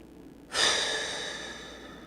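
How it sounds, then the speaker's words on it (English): A single deep breath is drawn and then blown out, close and clear, as a long airy exhale that slowly fades. "let's take a deep breath, blow out our stress"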